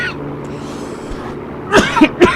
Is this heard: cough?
yes